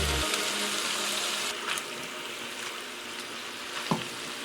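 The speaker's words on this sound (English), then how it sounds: "we're going to go ahead and add back in our peppers, onions, and mushrooms" Steak, peppers, onions and mushrooms sizzling together in a pan for a dinner sandwich, a steady close frying hiss with a few light scrapes and clinks of stirring.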